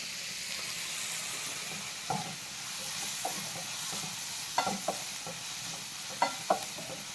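Onions frying in a pan and being stirred, a low continuous sizzle with scattered spoon scrapes and taps against the pan, close and moderately quiet, no speech.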